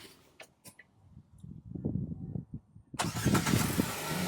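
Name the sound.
LPG SUV engine starting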